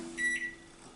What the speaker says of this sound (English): we give it a nice 20 seconds in the microwave.